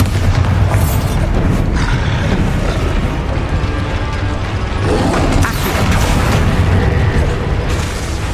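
Bombarda spell explosions in Hogwarts Legacy, loud heavy booms and crashing blasts layered over dense, continuous battle noise and mechanical clatter.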